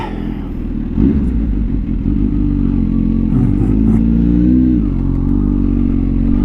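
A 2023 Kawasaki ZH2 supercharged motorcycle is ridden on the road, its engine droning loud and steady with rising and falling revs under strong wind rush.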